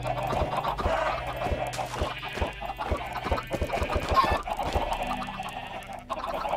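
Chickens in the Minecraft video game clucking, with repeated short clucks and a crow-like call over steady game background, fairly close and without talk.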